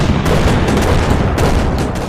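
Gunfire and shelling in a Power Rangers audio drama, a dense, loud, continuous barrage of shots and booming blasts with no voices over it.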